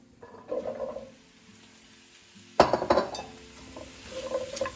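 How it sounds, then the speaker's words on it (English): Carrots go into a pan with a sharp clatter and rattle of pieces against metal, preceded and followed by softer clinks of utensils and cookware, close by and with no talking. "now we'll put the carrots in."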